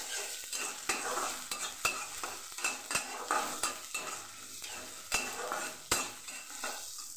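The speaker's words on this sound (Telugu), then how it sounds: "ఆయిల్ హీట్ ఎక్కాక దీంట్లో ఆనియన్ వేసుకుందాం." Chopped onion sizzles in hot oil in a pan while a utensil stirs it, with steady frying hiss and repeated sharp scraping clicks against the pan, close and moderately quiet, no talk.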